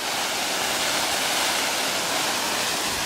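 Water poured over a soaked backpacking tent to mimic heavy rain, a steady dense wash of splashing that stays loud and unbroken throughout.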